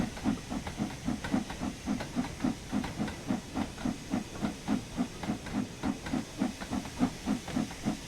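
Stanier 8F steam locomotive in Train Sim World, working with the regulator slightly open, chuffing in a steady, even rhythm of close exhaust beats over continuous hissing steam.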